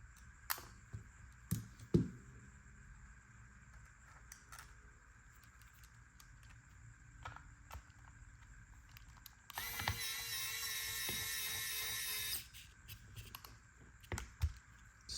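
Small screws driven back into an Anbernic RG405M handheld console during reassembly: sparse faint clicks and taps of a screwdriver, a few sharper knocks, and a three-second whirring buzz of a small electric driver midway, all quiet and close.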